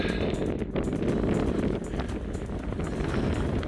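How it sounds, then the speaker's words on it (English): Strong, steady wind roars and buffets the microphone on a sunny, clear mountain summit in Scotland, a loud continuous broadband rush with gusty swells and no voices. "The wind's not calming down at all."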